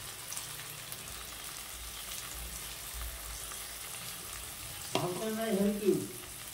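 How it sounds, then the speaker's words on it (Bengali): Onion and tomato fry in oil for ghugni with a low, steady sizzle, then a louder burst of stirring and spattering near the end, close by. "তো এটাকে ভালো করে ভাজা ভাজা করে নিচ্ছি, একটুখানি কষে নিচ্ছি।"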